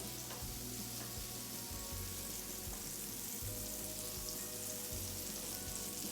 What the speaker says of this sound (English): You can hear that sizzle, which means it is really hot.